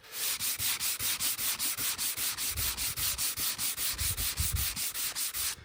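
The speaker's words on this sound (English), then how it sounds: "a little bit of hand sanding and it's already gone, and I can do it with the grain" Steady rhythmic scratching of sandpaper rubbed back and forth over wood by hand, close and continuous with quick regular strokes.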